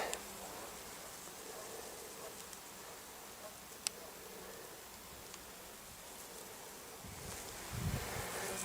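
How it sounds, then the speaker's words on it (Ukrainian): Continuous faint buzzing of a honeybee foraging on chamomile flowers on a riverbank, with soft rustling and a light breeze in the background. "бджола працює ось так на ромашках"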